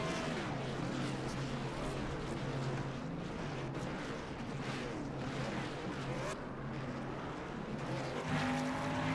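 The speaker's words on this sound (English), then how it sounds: "Just barely hear the roar of the cars." Distant race car engines roar at Indianapolis Motor Speedway in a steady, dense wash of noise, with a sustained low engine drone running throughout.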